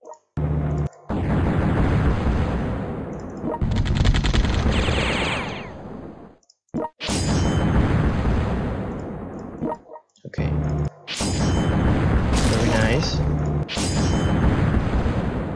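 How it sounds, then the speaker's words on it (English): Artillery fire and explosions roar loudly and continuously in several long, heavy bursts broken by brief silences, with no talking. "the artillery broke so good that the sound even make it better"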